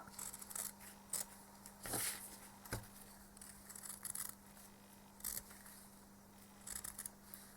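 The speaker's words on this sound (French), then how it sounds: "On découpe en laissant une marge de 3 à 5 mm tout autour." Scissors snipping through quilt fabric, cutting a margin around a shape: faint, sparse clicks and short snips spaced irregularly, close by in a quiet room with no talking.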